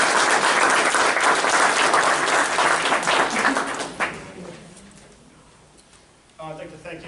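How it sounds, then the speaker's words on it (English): Applause at a community meeting in Elmont for an inspector and a lieutenant, a loud, dense crowd clapping that tapers off and dies away, with a voice starting to speak at the end. "So if you could, give them a nice round of applause."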